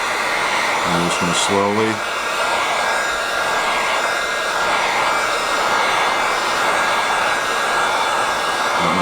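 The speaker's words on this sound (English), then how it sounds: "You're just going to take your hair heat gun or hair dryer." A heat gun or hair dryer blows steadily on Xpel paint protection film, a constant loud airy whoosh running the whole time with a brief voice over it near the start.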